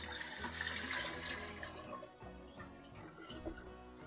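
Tap water pours steadily into a container in a home kitchen while pickled eggs are being prepared with a vinegar brine, a loud rushing splash that softens slightly after the first couple of seconds.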